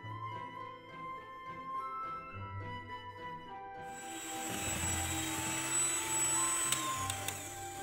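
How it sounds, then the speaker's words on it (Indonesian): An electric hand mixer beats cassava brownie batter of eggs, sugar, vanilla and emulsifier at high speed; a soft tonal hum gives way midway to a loud, continuous whirring roar that stays steady to the end. "Kemudian mixer dengan kecepatan tinggi sampai putih berjejak ya."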